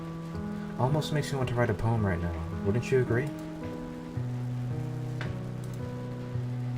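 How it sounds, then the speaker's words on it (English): Raindrops patter against a window in a Doki Doki Literature Club mod scene, a soft steady wash beneath a speaking voice and sustained background music tones. "listening to the drops hitting the window"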